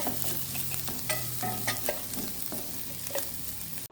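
Garam masala, crushed chilli and pepper powder sauté with sprouted green gram in a pan, a continuous sizzle broken by repeated scrapes and knocks of a spoon stirring, close and steady with no voices.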